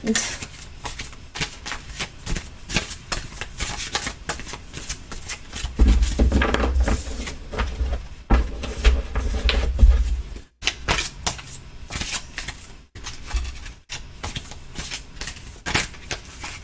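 Tarot cards being shuffled by hand, a run of soft riffling and slapping bursts in uneven clusters, close and fairly quiet, with a voice talking intermittently over parts of it.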